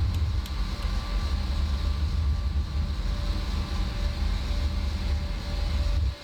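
Steady, loud engine drone of an Embraer 190/195 airliner in a flight simulator game, a flat broadband roar with a low rumble and faint whine holding evenly throughout before cutting off at the end.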